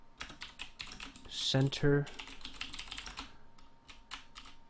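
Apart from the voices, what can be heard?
typing on a computer keyboard near the microphone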